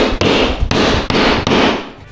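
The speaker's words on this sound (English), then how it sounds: "they took a hammer and they banged them down" A hammer banging protruding nails down into an old subfloor during a condo renovation, four loud, evenly spaced blows close by, each ringing briefly before the next.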